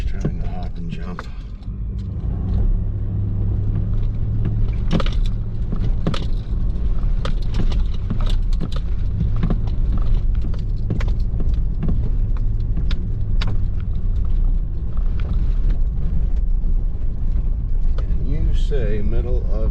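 A 2021 GMC Sierra 2500HD with the 6.6 gas engine and X31 suspension crawls up a remote mountain trail in four-wheel drive, its engine a steady low rumble under constant drivetrain and body noise, with occasional knocks and bumps as it hops over the terrain.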